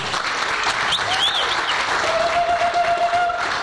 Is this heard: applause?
yes